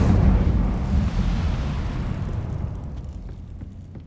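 Incendio fire spell cast in Hogwarts Legacy on PS5, a loud low roaring burst of flame that fades steadily over several seconds, heard alone without talk.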